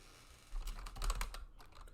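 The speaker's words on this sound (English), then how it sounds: "Typing something." Typing on a computer keyboard during a podcast recording, a quick close burst of clicking keystrokes with no talking.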